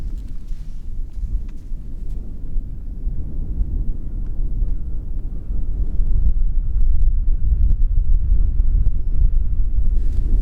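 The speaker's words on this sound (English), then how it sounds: "with the annoying wind" Steady wind buffets the microphone outdoors on an empty road, a continuous low roar that swells louder in the second half with no voices.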